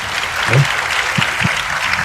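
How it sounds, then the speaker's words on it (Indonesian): An audience at a talk gives a short burst of steady, dense applause, many hands clapping together at even loudness, with a brief spoken word from one person over it. "Beri tepuk tangan semua yang benar."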